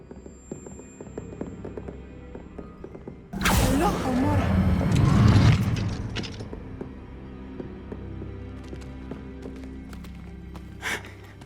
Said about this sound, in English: I will get the door.